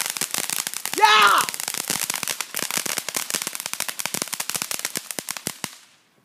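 A Keystone Fireworks grand finale: a rapid barrage of sharp crackling bangs and pops, a whistling burst early on, then dense repeated reports that fade out at the end, with people's voices exclaiming over it.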